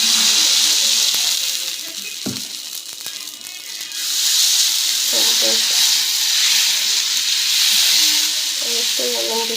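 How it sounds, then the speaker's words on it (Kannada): Oil hisses and sizzles on a hot dosa griddle in a steady, bright crackle that swells louder partway through, with a couple of soft knocks and brief speech underneath. "ಎಣ್ಣೆ ಹಾಕೊಳ್ಳೋಣ ಹೆಂಚಿಗೆ"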